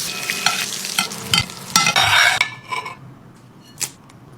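Fish sears in a pan with butter and yuzu, a close sizzle broken by scraping and knocking of a utensil against the pan for a few seconds, then fading to a quieter hiss with one final clink.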